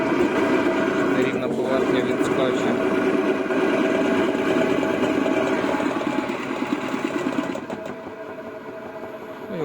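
A Sibo B5 dough mixer runs with a steady mechanical whir and hum that holds through most of the stretch, then eases down near the end, with someone talking over the motor.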